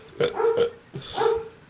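A dog gives two short, hoarse barks close by, a brief pause between them, then a longer, drawn-out bark-like call.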